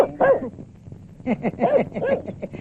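A dog yips and barks in a few short bursts, then a quicker string of barks, close by with brief pauses between.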